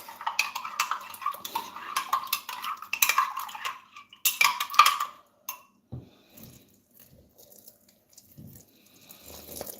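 Powdered milk is whisked with water in bursts of quick metallic clinking and rattling against a bowl, loud for about five seconds, then fading to a few faint taps.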